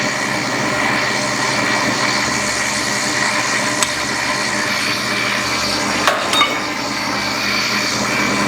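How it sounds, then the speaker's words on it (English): A stand mixer whips egg whites until stiff, giving a steady, loud motor whir with a constant hum, broken by a couple of brief knocks or clatters. "we put them onto our machine, and we're going to whip them until stiff"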